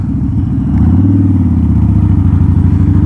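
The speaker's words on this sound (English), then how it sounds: "crack that throttle on your downshifts" A motorcycle engine rumbles loud and close at speed, then the throttle is blipped for a downshift, giving a quick rise in revs before it settles back into a steady, throbbing drone.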